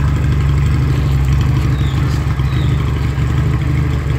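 A steady, loud Hunter Motorcycles Outlaw 400 engine idles through its standard exhaust with a low, even rumble and a faint clattering texture throughout.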